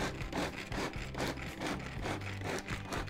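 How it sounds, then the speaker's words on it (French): Walnuts are chopped in a Turbo Chef chopper, making a repeated rough grinding rasp in quick, rhythmic strokes, fairly soft and close. "Donc on a mis les noix dans le turbo chef."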